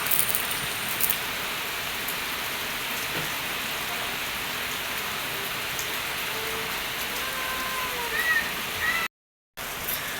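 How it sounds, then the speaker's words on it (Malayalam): Heavy morning rain falling steadily, a dense even hiss of drops on surfaces that continues throughout, briefly cut off near the end. "അപ്പോൾ രാവിലെ തന്നെ നല്ല മഴയാണ് കേട്ടോ."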